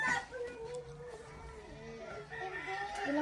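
A rooster crows at a house in the Philippines, with a drawn-out cry under quiet conversation nearby. The crow sits fairly low in level with some clucking.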